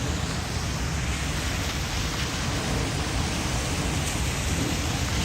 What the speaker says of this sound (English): Getting some rain ambiance.